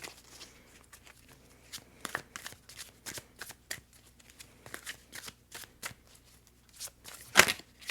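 Tarot cards shuffled by hand in a quiet room, giving a run of soft riffling flutters and light taps with one sharper snap near the end, close and fairly faint.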